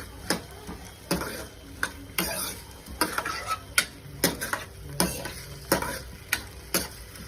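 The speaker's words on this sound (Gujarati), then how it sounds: "ડુંગળી થોડી વાર શેકાવા દેવાની છે" Onions fry in a pan under a soft, constant sizzle. A spoon scrapes and taps against the metal in a quick, regular rhythm about once every half second, close and clear, with no voices.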